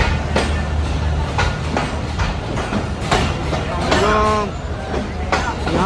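The Khushal Khan Khattak passenger express, a long-route train running between Karachi and Peshawar, rumbles past close by with rhythmic wheel clatter and heavy low drone, a short horn-like tone sounding midway.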